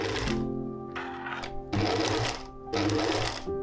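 A sewing machine stitches tape onto a dress in three or four steady motor runs, each lasting under a second, separated by short pauses, close and clear with no talking.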